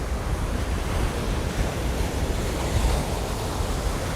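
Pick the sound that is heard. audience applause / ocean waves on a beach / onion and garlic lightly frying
ocean waves on a beach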